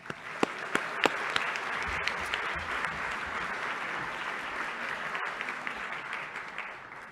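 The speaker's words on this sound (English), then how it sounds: "So big round of applause for Lee Bollinger" Crowd applause for Lee Bollinger at a university climate school class day ceremony, a sustained, broad roar of many hands clapping, with a few sharper near claps standing out early on.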